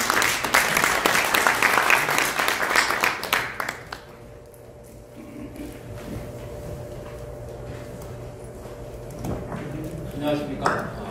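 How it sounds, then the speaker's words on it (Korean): Applause from a seminar audience at a human rights forum fills the room for about four seconds, dense and close, then fades into quiet room tone, with a few scattered claps and clinks near the end. "큰 박수로 한번 더 격려를 해주시면 됩니다."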